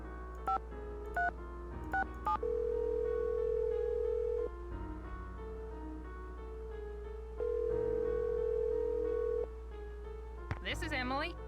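A telephone in the Nancy Drew game produces a run of quick dialing beeps, then a steady dial or ringback tone repeating in two long held stretches, closing with a brief warbling electronic sound.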